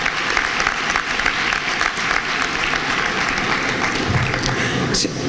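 A crowd at a senator's speech breaks into sustained, loud applause, continuous clapping that holds steady throughout with no break.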